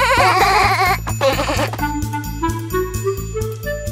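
Wavering, warbly sheep bleats sound close and loud over a bouncy musical backing, a few cries in quick succession.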